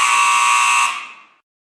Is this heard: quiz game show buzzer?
yes